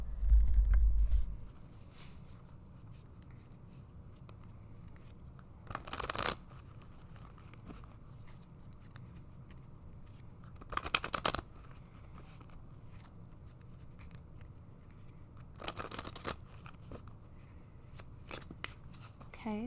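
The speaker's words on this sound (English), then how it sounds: "I'm going to get some zodiac cards here." Zodiac cards being shuffled by hand in a few short, crisp bursts of riffling spread through a quiet stretch, with a low thump at the start and a near, soft room background between bursts.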